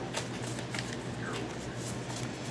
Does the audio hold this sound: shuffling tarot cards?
yes